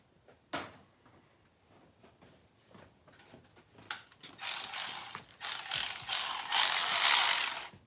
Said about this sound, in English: Where's my ratchet? My fancy ratchet.